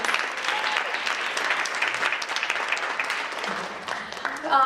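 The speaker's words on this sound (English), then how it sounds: "Let's give her another round of applause." Applause from an audience, dense steady clapping that carries on for several seconds.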